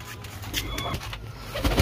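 Pigeons coo softly in short repeated calls amid a low background hum, with a few faint rustles.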